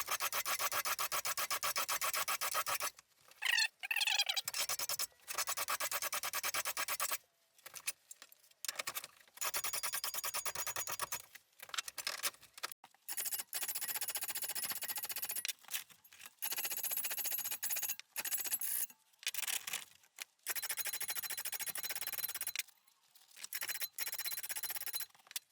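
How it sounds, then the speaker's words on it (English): An axe edge being filed with the coarse side of an axe file, bursts of harsh rasping strokes separated by short pauses, close and fairly loud, with no talk. "I've just been using the coarse side of this axe file."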